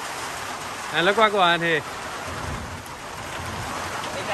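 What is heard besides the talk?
rain shower falling in Guyana dry season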